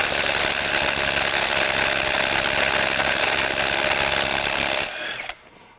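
A RYOBI 18V ONE+ HP compact brushless 3/8-inch impact wrench, four-mode model PSBIW, hammers steadily on a light impact socket, a loud continuous buzzing rattle that cuts off abruptly near the end.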